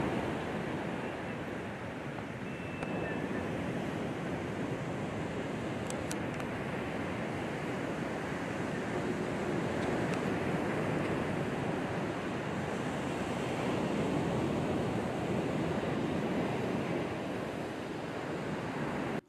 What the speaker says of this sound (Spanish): Ante las ligeras lluvias y el fuerte oleaje,